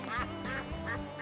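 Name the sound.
duck quacking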